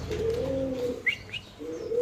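Racing pigeons at a pigeon farm give low, drawn-out coos close by, with a couple of brief higher chirps in between.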